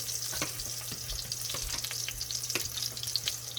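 Steady crackling sizzle of sausages frying in a pan, with scattered pops and spits over a low continuous hiss.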